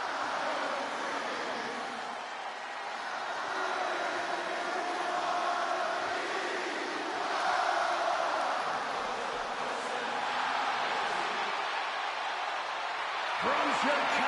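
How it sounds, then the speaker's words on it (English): A steady, roaring arena crowd ovation for CM Punk before his hometown Chicago audience in the WWE 2K26 wrestling game, a sustained wash of cheering that swells and holds throughout, with a faint thump near the end. "Just listen to this ovation for the Second City Saint"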